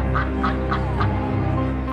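Duck quacking sound effect in an audiobook of Orwell's 1984, with about six evenly spaced quacks repeating over a steady low background hum.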